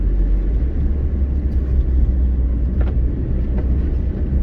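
A Rover 214 driving along a road, heard from inside as a steady low engine and road rumble at constant loudness, with no voices.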